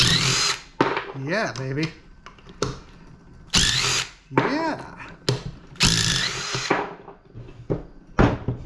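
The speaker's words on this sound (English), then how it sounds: "who doesn't love power tools?" A power tool drills apart a brass pressure washer motor in repeated short bursts of whirring, broken by pauses, while someone talks and exclaims excitedly between runs.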